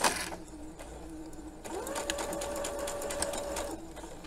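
A sewing machine stitches an inseam with a backstitch, running in a steady close whir with a faint motor hum, briefly pausing before starting again and running evenly to the end.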